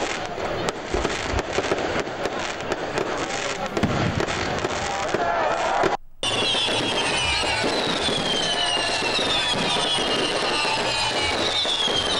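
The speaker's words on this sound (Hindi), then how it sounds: "यौम आज़ादी पर गवर्नर हाउस सिंध में 30 मिनट तक शानदार आतिशबाजी।" Independence Day fireworks at Governor House Sindh, a long continuous barrage of dense crackling bursts and booms heard from nearby, sustained and loud with a brief cut midway, crowd faintly beneath.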